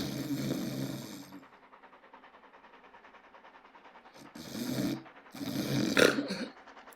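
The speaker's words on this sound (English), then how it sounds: "it was only a man snoring at the other end of the car" A man snores in slow, heavy bursts over a steady rumbling background like a moving train car, with quieter stretches between the breaths.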